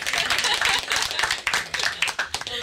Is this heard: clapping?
yes